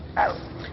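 A human actor imitates a chihuahua with a single short, high yip, a vocal impression of a small dog heard against a quiet room background.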